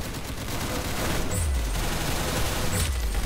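Gunfire in the Roblox shooter Arsenal, a dense continuous rattle of overlapping shots with a couple of low thumps, loud and close throughout.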